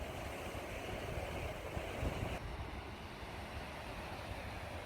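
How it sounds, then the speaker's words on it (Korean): Ocean waves wash continuously along the rocky coast at Ganjeolgot on Korea's east coast, a steady broad rush of surf mixed with wind, heard alone without voices. "파도 소리 들으며 걷는 간절곶 소망길이 참으로 좋습니다"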